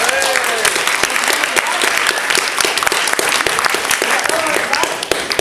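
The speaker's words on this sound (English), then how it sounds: "Give her a round of applause." A lecture audience applauds a volunteer coming up to the stage, with loud, dense clapping sustained throughout and brief voices and whistle-like calls rising over it.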